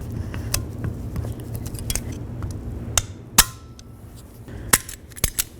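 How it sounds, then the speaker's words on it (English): Snap ring being worked into place on a front wheel bearing of a 2009-13 Mazda 3, heard as scattered sharp metallic clicks and snaps over quiet shop background, with no talking. "let's continue on by getting our snap ring on here"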